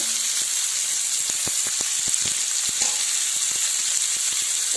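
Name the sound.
onion added to hot oil, sizzling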